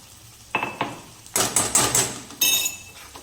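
Garlic-chili paste is stirred into crumbled rotlo (millet flatbread) in a pan for Kathiyawadi vagharelo rotlo, producing a series of close, sharp metallic scrapes and clanks of a spoon against the pan in irregular bursts, without talk.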